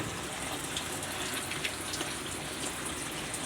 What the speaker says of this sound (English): once you switch on the tap, simple, water starts coming in immediately.